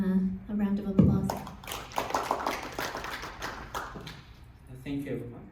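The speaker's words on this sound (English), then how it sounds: "let's give him a round of applause" Audience applause for a presenter at a talk on dramatizing children's literature, a scattered patter of hand claps mixed with talking voices.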